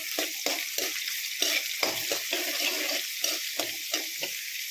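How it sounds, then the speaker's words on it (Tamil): Small shallots fry in hot oil while being stirred, giving a steady close sizzle broken by repeated scraping stir strokes throughout, with no talking. "வெங்காயம் பொன்னிறமாக ஆகுறது வரைக்கும் நல்லா வதங்கட்டும் எண்ணெயில்."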